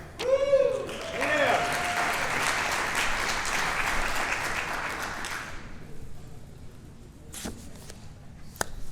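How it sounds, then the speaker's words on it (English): An audience at a Scouting awards banquet breaks into a burst of applause that quickly swells into dense, sustained clapping, then tapers off, leaving a few scattered bumps near the end. "Ready for a big applause now."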